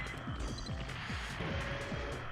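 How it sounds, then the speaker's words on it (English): Missile impacts in the mech combat game Armored Core: Project Phantasma come as a quick run of low, thudding explosions with falling booms, several hits in a row at steady volume with no talk over them. "Whoa! Missiles!"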